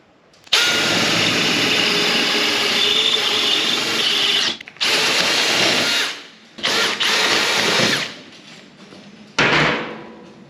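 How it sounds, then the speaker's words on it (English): Close, loud power drilling into the opening and closing mechanism of a front gate in a workshop. The drill comes in long bursts with short pauses between them. "that's the opening and closing mechanism for the front gate all drilled"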